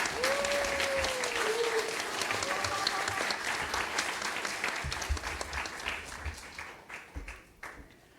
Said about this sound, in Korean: 우리 목사님 나오실 때 큰 박수로 맞이해 주셔서 감사하겠습니다